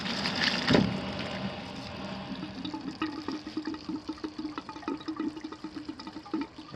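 Water rushes and gurgles as a tankless water heater drains while its pressure is released, with a sharp gush near the start and then a steady, fairly close flow broken by small sputters.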